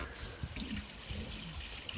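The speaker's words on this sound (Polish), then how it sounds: "Do tych laurów muszę dolać dużo wody," Water poured onto dried-out laurel plants under a plastic-covered shelter, a quiet steady trickle and splash of liquid running throughout.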